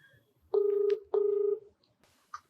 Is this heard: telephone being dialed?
yes